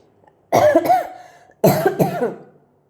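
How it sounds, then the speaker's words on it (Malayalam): Two harsh coughs, each a quick double burst, close and loud, separated by a short silence. "ഇടയ്ക്ക് ചുമയ്ക്കുന്നത് നിങ്ങൾക്ക് ബുദ്ധിമുട്ടാണെന്നറിയാം പക്ഷേ ചുമയ്ക്കാതിരിക്കാൻ പറ്റുന്നില്ല"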